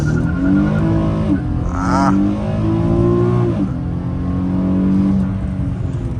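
Rear-wheel-drive Infiniti G37 launching from a stop: the engine's harmonic drone holds, then climbs and shifts as the car pulls away, loud and close throughout.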